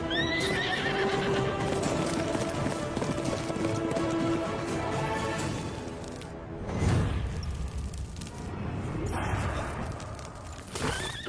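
A horse in a Hindi-dubbed action film whinnies loudly with rising and falling pitch over steady clip-clopping hooves and a dense dramatic score, the neigh swelling again near the end.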